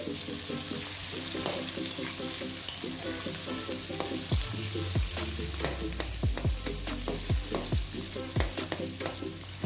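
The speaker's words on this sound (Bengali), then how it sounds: "মাছের তেলগুলো ফার্স্টে ভেজে নেব। তেলটা ভেজে নিচ্ছি।" Fish fat sizzling in hot oil in a pan, a dense close crackling fry with sharp popping bursts that grow more frequent toward the end, no talking.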